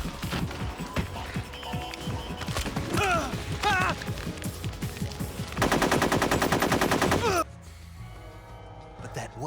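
Gunfire in Metal Gear Solid 3, a run of rapid shots and clattering mechanical hits, then a dense sustained burst of automatic fire before it cuts to a quieter tail.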